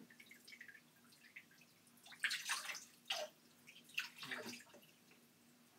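A cat is being washed with water in a sink, giving soft irregular splashes, drips and sloshing bursts at moderate loudness.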